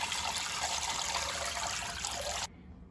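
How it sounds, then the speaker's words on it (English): Well water pours into a home fish tank with a hand held under the surface, making a steady rushing, splashing gush close by that stops abruptly near the end, leaving a faint hum. "As I put water into my tank, I like to have my hand under the water so it doesn't mix everything up as much."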